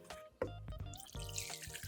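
Hot water runs steadily from a tap into a sink for washing a bike freewheel, a continuous close splashing flow after a brief start.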